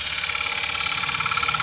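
Woodturning lathe running with a scraper cutting a dovetail groove inside a bowl, a brief steady whirring hum with a bright tonal ring, close and continuous.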